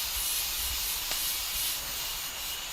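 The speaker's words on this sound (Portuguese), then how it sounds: "Olha as cigarras." Cicadas buzz in the evening as a dense, steady high-pitched hiss, droning continuously at moderate loudness with no speech.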